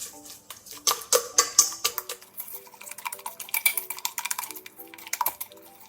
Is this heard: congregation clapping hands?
no